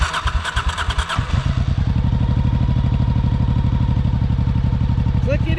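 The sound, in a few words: motorcycle engine turned on, idling in neutral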